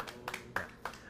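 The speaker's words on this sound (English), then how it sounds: "Clap, clap." A few sparse, separate hand claps, quiet and spaced roughly a quarter second apart, in a short stretch with no talking.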